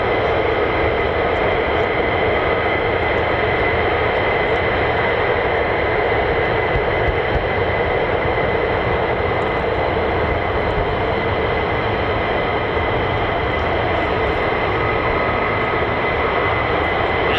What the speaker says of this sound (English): There's millions of F-35s crossing the taxiway.